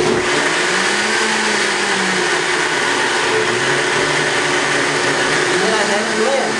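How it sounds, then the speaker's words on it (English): A loud blender whirs continuously while blending a green smoothie, a dense, steady motor roar with slight shifts in pitch as the contents churn. "I don't think you can hear me with this blender on because it's pretty loud."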